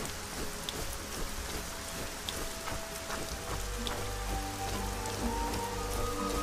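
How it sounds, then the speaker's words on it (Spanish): Steady, dense rain patters throughout in the ArcaniA video game, a constant hiss of falling drops with faint musical tones and no speech above it. "Y lloviendo encima."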